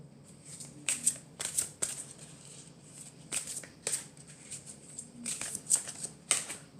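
Tarot cards are shuffled and drawn by hand in a quiet room, a string of soft, quick riffling bursts and crisp card snaps that come in irregular clusters, close and fairly faint.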